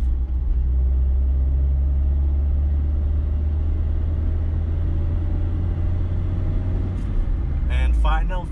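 Toyota Caldina with a 3S-FE engine driving in fourth gear at sunset, a steady loud low engine drone and road rumble holding throughout, with a brief clatter near the end.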